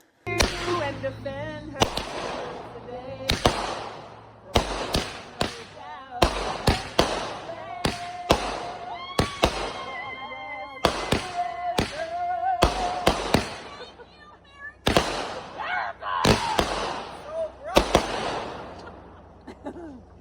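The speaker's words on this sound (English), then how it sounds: "a pretty decent 16 shot, a pretty normal little 200-gram firework" A rapid volley from an Emerald City 16-shot, 200-gram firework cake, sixteen sharp bangs in uneven bursts, each with crackling tails, ringing out loud and near.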